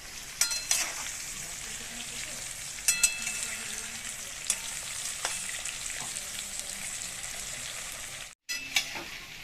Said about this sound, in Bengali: এবার আমি আলুগুলো লাল লাল করে ভেজে নিই